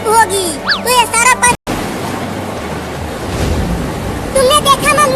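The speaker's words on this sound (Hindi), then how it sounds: "देखो कितनी तेज बारिश हो रही है।" Heavy rain falls in a desi comedy sketch as a loud, steady broadband hiss, preceded and followed by voices and music.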